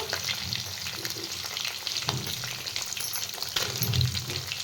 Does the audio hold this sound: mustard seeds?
yes